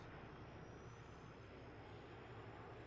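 Jet taking off in the Arma video game: a faint, steady roar of aircraft engine noise sustained throughout, distant and low in level, with no voices.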